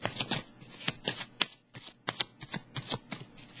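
Tarot cards are shuffled in repeated quick riffling bursts with brief pauses between them, close up and fairly quiet, with no voice over them.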